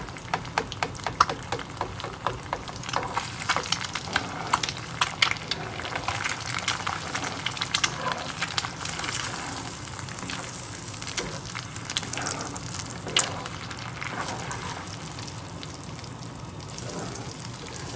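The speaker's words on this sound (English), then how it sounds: "we're just going to scramble it. Just for now, we're just going to keep it like this, and just break the yolk." An egg is scrambled in butter in a pan in a Bhutanese village-style preparation. The butter gives a continuous soft sizzle and crackle, steady and close, with small irregular pops throughout.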